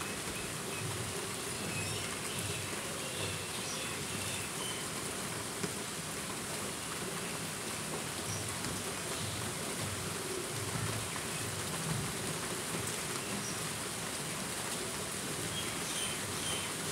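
Batter frying in an oil-brushed pan gives a steady, even sizzle and crackle, close and moderately quiet, continuing unbroken with no talk over it.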